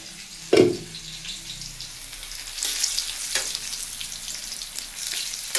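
Onions frying in a pan hiss with a steady, soft sizzle, punctuated by a sharp clatter near the start and a few stirring scrapes later, with no talking.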